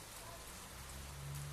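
Steady rain pours down in a dense, even hiss of drops striking surfaces, with a low rumble underneath, continuous throughout the short stretch.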